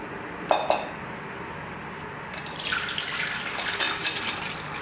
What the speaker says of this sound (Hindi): अब इसका हम पानी ड्रेन कर देंगे